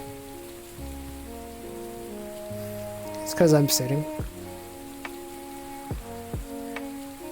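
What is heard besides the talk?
rain falling in a VR fishing video game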